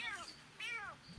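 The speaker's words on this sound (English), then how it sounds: "It sounds like a cat." A cat gives two rising and falling meows close by, alone, over a faint steady background hum.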